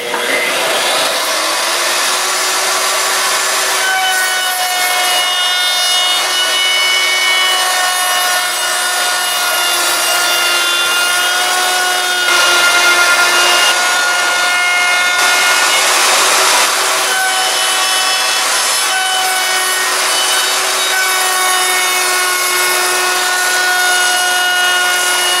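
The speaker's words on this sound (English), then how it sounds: "I'll hook up the router. Go ahead and round these edges." A router rounds the edges of wooden boards for a raccoon stretcher, a loud, steady high-pitched whine with a rasping cutting texture that holds for the whole stretch, shifting slightly in pitch as it bites.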